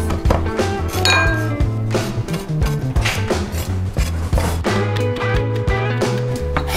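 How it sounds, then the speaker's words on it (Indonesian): Rosemary and thyme being chopped with a knife on a board: rapid, uneven tapping strokes mixed with metallic clinks of utensils and cookware, close and busy throughout. "next kita akan cincang rosemary sama thyme"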